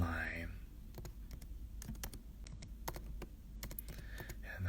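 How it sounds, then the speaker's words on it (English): Someone types on a computer keyboard in sparse, irregular bursts of light clicks, close but quiet, over a steady low hum with no talking. "And I'm typing her now."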